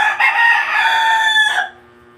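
A rooster crows once, loud and close, a drawn-out call that ends abruptly, leaving quiet behind.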